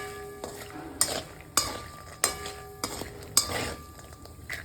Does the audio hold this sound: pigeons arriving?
no